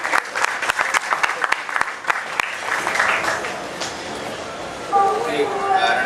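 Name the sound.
audience applause at Seattle Hempfest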